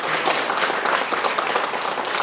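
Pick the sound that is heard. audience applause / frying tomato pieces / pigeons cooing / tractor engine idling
audience applause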